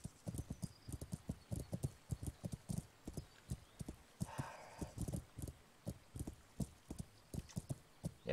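Horse hooves clip-clop at a steady walking rhythm in the medieval video game Kingdom Come: Deliverance, close and clear throughout, with a short whinny-like burst in the middle.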